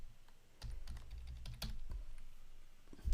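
Keys tapped on a computer keyboard while typing an occupation into a website search box, irregular close clicks over a low background hum, with a louder thump at the end.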